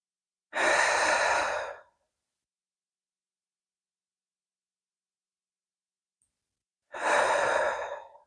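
Deep, slow yoga breaths, two long airy exhales close to the mic separated by a long silent pause.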